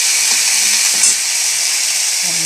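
Cauliflower frying in a pan with garlic paste for a roast dish, with a loud, steady sizzle and hiss and faint stirring scrapes throughout.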